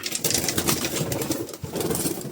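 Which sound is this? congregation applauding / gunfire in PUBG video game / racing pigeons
racing pigeons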